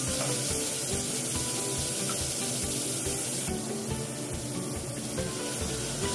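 Water poured into a pan of cashews, tomatoes and garlic for shahi paneer gravy, a steady close splashing and hissing wash that runs continuously and grows slightly brighter partway through.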